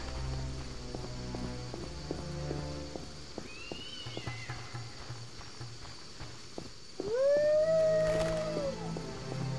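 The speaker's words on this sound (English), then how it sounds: "Why are the dogs howling?" Dogs in The Witcher video game let out long, rising howls that stretch out near the end, over a trail of clip-clopping hooves and footsteps, with no talking.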